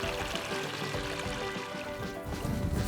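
Water flows and pours steadily at a beaver trap set in a stream, a close, continuous gurgling rush with no voices.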